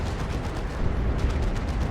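Cannon fire in a Dawn of War 2 battle between Space Marines and Imperial Guard, a Dreadnought facing a Manticore, heard as dense low rumbling blasts within constant battle noise.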